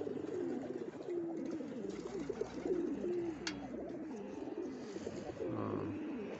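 Pigeons at a loft coo repeatedly in soft, low, rolling phrases, several birds overlapping at close range in a quiet setting, with a faint chirp here and there and no talk.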